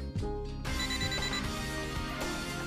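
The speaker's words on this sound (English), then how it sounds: "Beep, beep, beep, beep." An electronic alarm rings in GTA Vice City Stories, a steady repeating tone sounding close and loud throughout with a sharp jump in level near the start.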